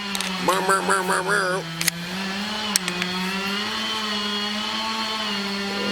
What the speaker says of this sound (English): we got the chainsaw people in the background